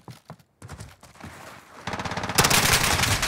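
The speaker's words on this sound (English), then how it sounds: "I just missed every bullet on the right, Hedy." Gunfire during a Modern Warfare gunfight, starting with a few scattered shots and then turning into sustained rapid automatic bursts that grow louder and denser toward the end, with no voices.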